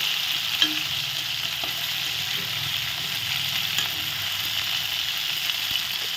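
Oil sizzles steadily around a large boal fish head frying in a pan, a continuous bright hiss with a few faint clicks and pops, close and even throughout, with no talking.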